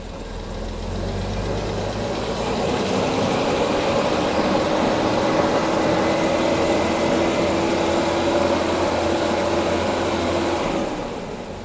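A Jaguar XJC engine idles steadily and evenly, a continuous low rumble with a faint tonal hum, running alone for about ten seconds before fading at the end.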